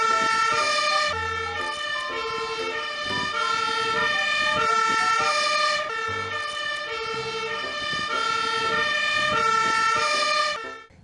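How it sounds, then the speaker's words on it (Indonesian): A toy fire truck blares its electronic siren, a loud, steady wailing tone with repeating melodic steps that runs close and unbroken for about eleven seconds before cutting off. "Di sini ada mobil pemadam kebakaran."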